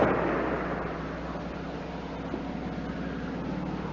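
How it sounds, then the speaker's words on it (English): Big game rifles fired at set-up targets by two or three people in misty Alaskan mountain wilderness, heard as a loud broad rumble that slowly fades, with a faint sharp report later, no voices. "that tremendous explosion you heard was the sound of 2 or 3 people here in the wilderness who have set up targets, and they're firing their big game rifles"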